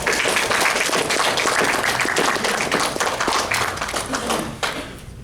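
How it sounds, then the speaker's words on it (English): An open mic audience at a furry convention breaks into loud, dense applause for a performer named Jonas, a packed burst of clapping and cheering that stays strong before tapering off near the end. "Ladies and gentlemen, give Jonas a huge round of applause."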